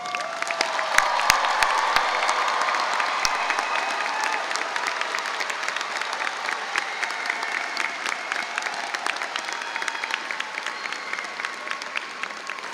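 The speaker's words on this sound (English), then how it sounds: "Please join me in another round of applause." Sustained applause and cheering from a large crowd for the graduating class at a Queensbury High School graduation ceremony, a thick wash of clapping that holds steady throughout with a few sharp claps standing out near the start.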